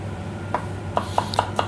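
A knife chops a shallot into fine dice on a board in a kitchen with a pan set out: four or five light, evenly spaced taps near the end after a single earlier tap, over a low steady hum.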